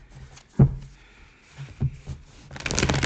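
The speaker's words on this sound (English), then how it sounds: "Give these cards a bit of a shuffle here." Soft shuffling of a deck of tarot cards, with a couple of sharp taps and a burst of riffling rustle at the end, no talking.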